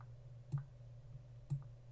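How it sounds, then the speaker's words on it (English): Two quiet mouse clicks about a second apart while clicking the paste icon in Camtasia 9 screen-recording software, faint over a steady low hum with no talking. "So let's click the paste icon."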